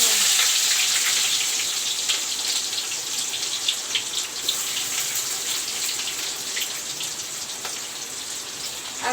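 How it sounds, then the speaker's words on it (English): Onions sizzle in a pan of hot oil with cinnamon bark and bay leaves for an egg curry, a steady close crackling hiss with scattered pops and no talk. "I will let the onions fry"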